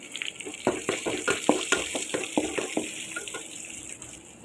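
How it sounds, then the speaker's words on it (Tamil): Green chillies, onion and curry leaves sauté in a pan, with a soft background hiss and a quick run of scraping stirs in the middle, moderately quiet and with no talking. "நல்லா வதக்கி விட்டுக்கணும்."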